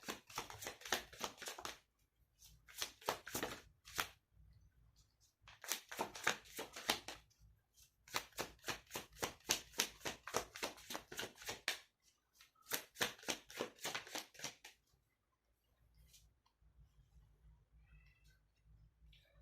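Tarot or reading cards being shuffled in several bursts of quick, crisp riffling flutters, separated by short pauses, close up with no talk.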